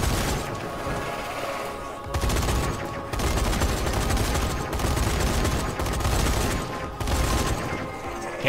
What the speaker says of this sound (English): Yeah, because I used this giant MG, that's why.